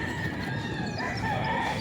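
A ten-month-old Kelso stag rooster with white legs crows loudly and close by in a backyard, one sustained call filling the whole moment with no talk.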